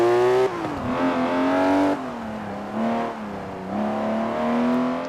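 A car engine idling low and burbling as the accelerator is released in Forza Horizon 4, a steady loud drone that dips and swells gently with small rev changes, no voices over it.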